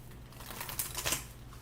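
Tarot cards being shuffled by hand, a soft papery riffling with a few brighter flutters, quiet and close with no talking.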